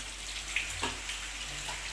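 Water runs from a tap in a home kitchen, a soft, steady splashing stream with a few faint drips, heard alone.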